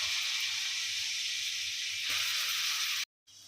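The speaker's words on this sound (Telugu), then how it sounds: "ఇలా తురిమిన యాపిల్ అంతా వేసుకొని కొద్దిసేపు వేయించుకోవాలండి నెయ్యిలో" Grated apple frying in ghee in a pan for apple sago kheer, a steady close sizzling hiss that runs unbroken, then cuts to brief silence before resuming more quietly.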